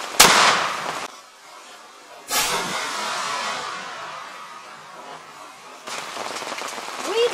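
Two sharp reports from a Savage Model 67 20 gauge pump shotgun firing Winchester Super X slugs at an outdoor range, each a loud crack followed by a decaying rumble, with a quieter noise trailing near the end.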